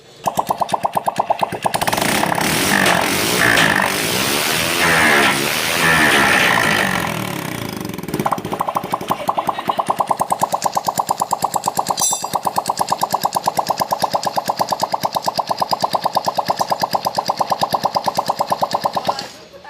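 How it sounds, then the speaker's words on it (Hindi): A motorcycle engine running without its silencer after a piston ring fit, loud and near, with a rapid harsh popping exhaust beat that climbs during revving and then settles into a steady idle. "फिट करके स्टार्ट करता हूँ, मैं आपको दिखाता हूँ। सलेंसर नहीं लगाऊंगा।"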